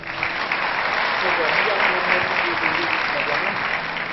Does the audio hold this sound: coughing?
no